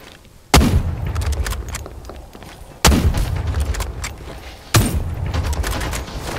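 AK gunfire in Farlight 84 arrives as three loud, sharp reports, each trailing into a rumbling boom and sporadic crackling echoes, spaced about two seconds apart.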